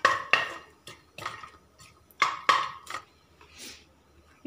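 Whole spices including star anise and bay leaf stirred in a cooking pot for mango biryani, a metal spoon knocking and scraping against the pot in a handful of sharp, close clanks with quiet gaps between.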